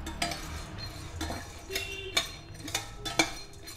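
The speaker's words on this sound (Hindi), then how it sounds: "चने के दाल को और मूंगफली भी इसी में डाल देंगे हम और दोनों को अच्छे से थोड़ा हम भून लेंगे" Chana dal and peanuts being dry-roasted in a pan, with faint scraping and light clinks of a spoon against metal in irregular strokes at a moderate distance.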